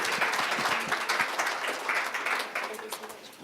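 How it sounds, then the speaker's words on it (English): An audience claps for a speaker about to give a talk on leadership, a full burst of applause lasting a few seconds with some voices mixed in. "let's give him a round of applause"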